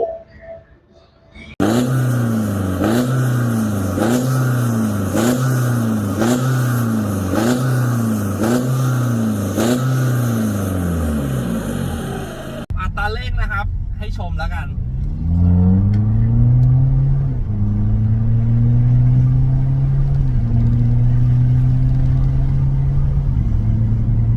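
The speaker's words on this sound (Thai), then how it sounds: "ชุดท่อเป็น Euro Art Exhaust งานดัด CNC Full นะครับ" BMW F30 diesel fitted with a Euro Arts full CNC-bent exhaust, revved repeatedly in a steady rhythm of about ten sharp blips, then held in longer rising pulls, loud and close with no talking.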